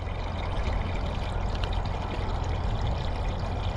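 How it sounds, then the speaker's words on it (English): Water from a hose pours steadily into a canal boat's water tank, a close, continuous gushing and trickling rush with no speech over it. "Well, there's the water going in, of course."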